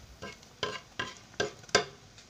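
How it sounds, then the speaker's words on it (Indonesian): A utensil stirs vegetable lodeh with melinjo leaves and coconut milk in a pot, making four or five soft, evenly spaced scraping strokes close by with a faint simmer underneath. "Nah, kita aduk."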